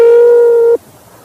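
A single electronic phone tone sounds steadily for under a second, then cuts off abruptly into quiet.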